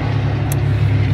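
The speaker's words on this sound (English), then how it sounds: "Excuse the traffic." A loud, steady low rumble of road traffic passing close by, a car-like engine drone that fills the short moment with no talking.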